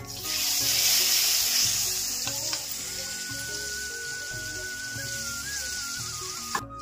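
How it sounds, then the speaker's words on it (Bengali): Onion tipped into hot oil already sizzling with cumin, whole garam masala, bay leaf and dried red chili, giving a steady loud fry hiss that eases slightly, with faint clinks and light background music underneath. "লাল লাল হয়ে গেছে, এবার দিয়ে দিচ্ছি পেঁয়াজ।"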